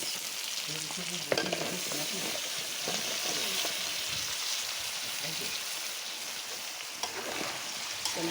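Eggplant and potato frying in a pan, a loud continuous sizzle and crackle with spatula scraping and stirring strokes throughout, close up, with a faint voice now and then.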